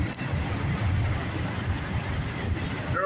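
A CSX freight train rolls past with a steady low rumble and broad wind-blown roar that holds level throughout.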